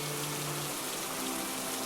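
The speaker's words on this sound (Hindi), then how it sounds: "और उधर रात को बहुत तेज तूफान आया" Heavy nighttime storm rain pouring steadily, a dense, even hiss of rainfall with a faint low hum running underneath, continuous and moderately loud with no voices.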